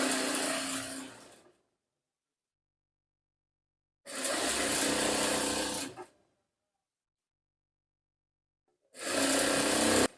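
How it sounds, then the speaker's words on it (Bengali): A sewing machine stitches the open bottom side of a women's salwar pajama in three loud, buzzing runs of about two seconds each, separated by complete silence. "আমরা সহজ পদ্ধতিতে কিভাবে নিচের খোলা সাইডটি সিলি করে দিচ্ছি"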